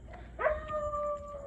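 Dogs howling at night, a single drawn-out howl rising and holding steady, heard fairly close against a quiet background.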